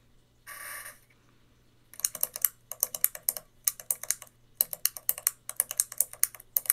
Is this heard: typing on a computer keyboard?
yes